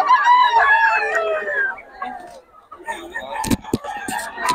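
Roosters crowing and hens clucking at a chicken sale in Bocaue, a loud drawn-out crow up close followed by scattered clucks and sharp bursts of fowl noise, with people talking faintly nearby.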